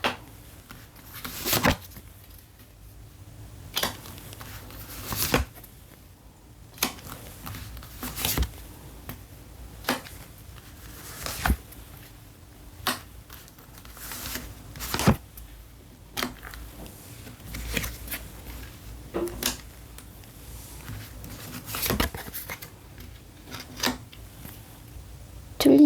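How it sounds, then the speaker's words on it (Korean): Tarot cards are shuffled and drawn, heard as a string of crisp, quiet slaps and snaps at irregular intervals over faint room hiss, with no talk. "8장의 카드 뽑도록 하겠습니다"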